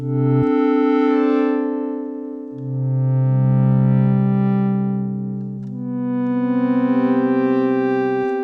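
A buzzy square-wave synthesizer tone through a Vongon Replay delay holds sustained chords that shift in pitch, with a slow warble and trailing echoes, no voices.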